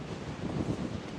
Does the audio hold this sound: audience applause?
no